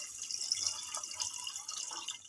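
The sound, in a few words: adding water to cooking mung beans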